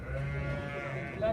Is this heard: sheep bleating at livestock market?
yes